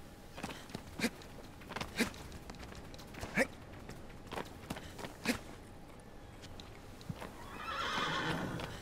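A horse in the video game Shadow of the Colossus neighs and whinnies while its hooves clop at a slow walk. Single hoof strikes land about once a second, fairly close, and a longer whinny comes near the end.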